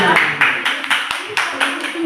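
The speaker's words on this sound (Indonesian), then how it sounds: "Oke, tepuk tangan." Fifth-grade pupils in an Islamic studies lesson clap for a group coming forward, brisk uneven claps from a whole classroom blended with chatter and a speaking voice.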